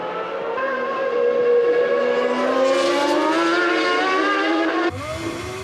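A 1997 Formula 1 Ferrari driven by Irvine screams in a high, steady engine whine that rises in pitch as it passes close, then cuts off abruptly as it dives into the pits for a refuelling stop.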